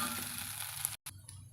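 Brinjal (eggplant) fry cooking in a pan, giving a steady, faint sizzling hiss that cuts out briefly and then returns.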